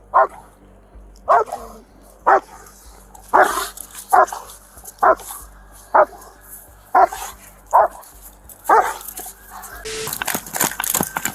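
A police dog barks sharply and repeatedly during an arrest, about a dozen loud evenly spaced barks close by, with shouting voices around them and a burst of noise at the end.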